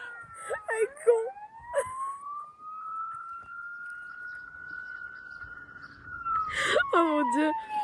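A toy siren sounds up close, sweeping up into a long sustained wail that dips and warbles at the start and end, with voices chattering over the beginning and the close.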